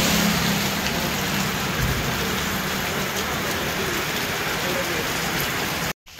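Steady heavy rain pours down continuously as a dense, even hiss, close and loud throughout, with a faint low rumble underneath and a brief cut-out near the end.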